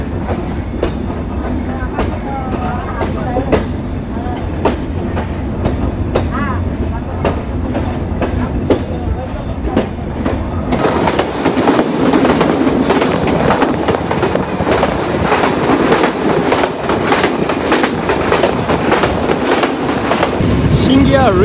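The intercity Rupsha Express runs through Singia railway station without stopping. Its wheels tick out a quick, regular clickety-clack, then the noise swells into a louder, denser rush of rattling and roaring for the second half.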